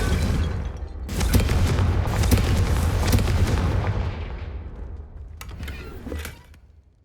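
A Confringo blasting spell explodes in Hogwarts Legacy as a loud booming blast with a long rolling rumble that slowly fades, followed by a couple of sharper cracks near the end.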